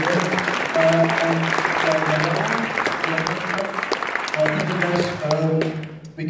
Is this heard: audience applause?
yes